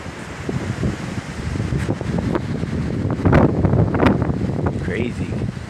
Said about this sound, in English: we're going through a crazy windstorm right now